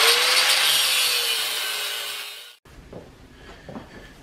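A power saw cutting through steel rebar pieces during blast furnace construction, a loud sustained grinding whine that fades, cuts off abruptly, then gives way to quieter scraping and clanking handling noises.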